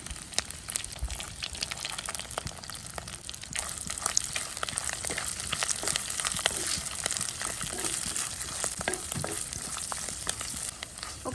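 Dried red chillies, curry leaves and cashews sizzle in ghee in a kadai, a steady crackling fry with occasional stirring, moderately close and with no talk over it.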